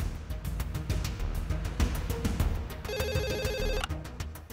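A telephone rings with a repeated electronic ringtone trill for about a second amid an indoor TV drama scene, preceded by scattered clicks and thumps of movement, with no speech over it.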